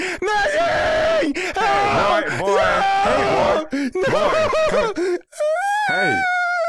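Loud, drawn-out screaming and wailing voices, several overlapping and strained in pitch, continuing almost without a break and ending in a final high wail after a short pause.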